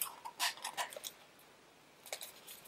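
A small cheap ribbon being unrolled, giving soft crinkly rustles and light ticks in short bursts early on, then a pause and a few more near the end; fairly quiet and close, with no talking.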